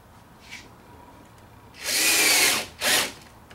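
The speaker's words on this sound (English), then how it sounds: "Take your drill and your screws." Power drill driving screws into a wooden flange on a shop-built wood chip collector, with a brief blip first, then a loud sustained whirr and a short second burst, alone with no talk.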